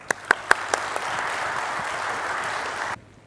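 An audience at an academic keynote lecture bursts into applause for the speaker, opening with a few sharp separate claps that swell into steady, dense clapping for about three seconds before cutting off abruptly.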